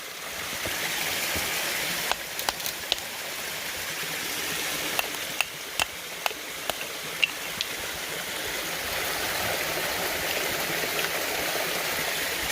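A creek waterfall pours in a steady, even rush of water close by, with a few sharp knocks or clicks scattered through the middle.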